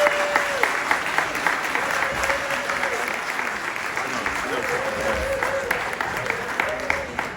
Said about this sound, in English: Can we give them a round of applause for saying that?